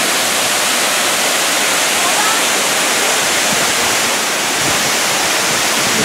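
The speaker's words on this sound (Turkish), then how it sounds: "şimdi şelalenin tam dibindeyim" A waterfall in Arhavi, heard from right at its base: a loud, unbroken roar of rushing water filling the whole scene with no letup.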